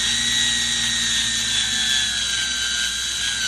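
A power drill whines steadily at high speed, close and loud, its pitch drifting slightly lower over a few seconds with no talking, during side mirror installation on a 1971 C3 Corvette.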